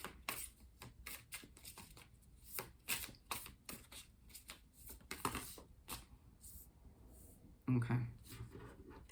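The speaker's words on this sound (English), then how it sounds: "Let's continue by pulling 6 tarot cards, a simple 6-card spread, if you will." Tarot cards shuffled and drawn from the deck: a run of close, crisp card flicks and slaps, irregular and fairly quiet, with a sharper riffle near the end, while a voice talks in the background.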